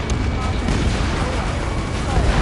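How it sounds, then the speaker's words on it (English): Gunfire and explosions in the Ace Combat 7 video game, set in a city under martial law where jets roar through the streets, form a dense, loud, continuous rumble of distant blasts and shots. "Gunfire and the roar of jets echoing through the streets"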